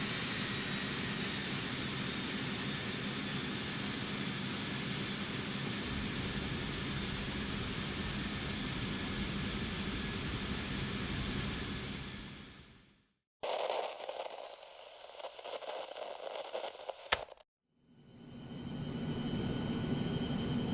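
The Aerobask Eclipse 550 NG jet in X-Plane 11, on approach to Zurich runway 32, gives a steady whining engine drone with a faint tone for about thirteen seconds; it cuts out, a shorter altered stretch follows, then the drone returns.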